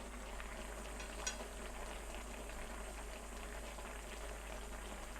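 Spicy Korean tofu jjigae broth bubbles in a pan, a soft, steady simmering burble with one brief clink partway through, quiet and close with no voices.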